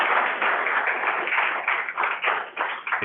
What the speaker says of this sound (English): But another round of applause for Jim, everybody.